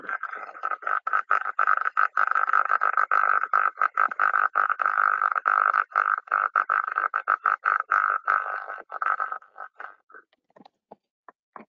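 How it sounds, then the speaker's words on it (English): Destructive electrical corona on an insulator moving toward tracking, captured by a 40 kHz airborne ultrasound sensor and heard as a steady, dense crackling buzz with rapid irregular dropouts that thins into sparse pops at the end. "here it was destructive corona moving towards the tracking"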